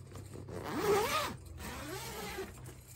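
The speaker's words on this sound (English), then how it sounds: "So you unzip it" A zipper slides open along the fabric cover of a portable electric clothes dryer, heard as one close, smooth rasping pull followed by a softer second stretch.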